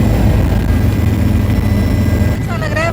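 Helicopter lifting off from the Guptkashi helipad on the Kedarnath route, a loud steady engine and rotor roar filling the scene, with a brief rising whine near the end.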